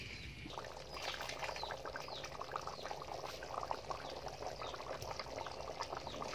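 Water pours into a pot while Assamese food cooks, a continuous soft splashing rush that runs evenly the whole time and sits fairly faint in the room.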